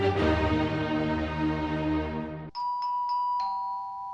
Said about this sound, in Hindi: ये डोरबेल आप सुन रहे हो